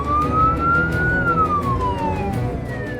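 A paramedic ambulance on an urgent lights-and-sirens run sounds its siren up close and loud, a single wail rising then falling in pitch over a low engine rumble.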